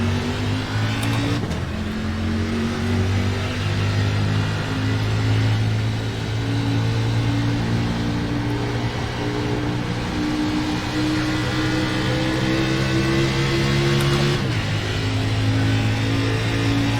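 A NASCAR Xfinity stock car in the iRacing simulator drones at steady revs, drops its pitch and shifts twice, loud and close, while another car runs alongside throughout.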